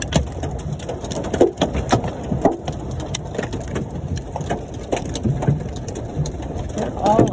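Golf-ball-size hailstones pelt a Mustang car, making irregular sharp knocks and thuds scattered across the stretch, some hard and close, over a rustling background with muffled voices at times.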